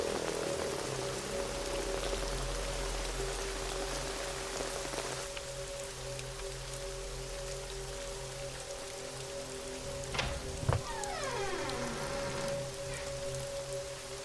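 Heavy rain pours steadily and loudly throughout, a dense continuous hiss with a low droning hum beneath and a brief sharp knock near the end.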